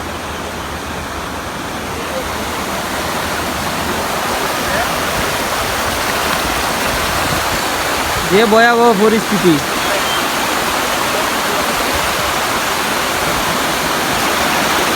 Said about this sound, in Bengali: পানির ভিজাত আওয়াজ